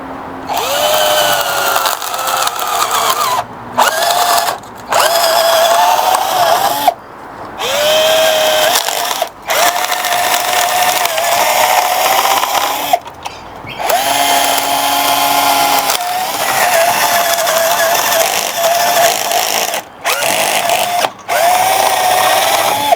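A power drill whirs loudly in long continuous bursts into a tree trunk, pitch dipping under load, with brief pauses between runs and no talking.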